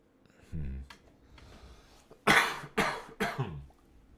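Someone getting over a cold coughs several times, sharp close bursts in quick succession after a brief bit of talk and breathing.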